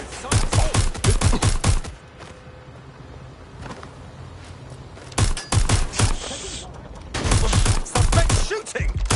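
Rapid gunshots in Watch Dogs Legion, loud fast bursts of automatic fire in clusters separated by brief quieter pauses, with no talking over them.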